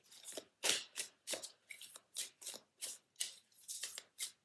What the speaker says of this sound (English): As I'm shuffling, I was just side-eyeing the card that fell on the floor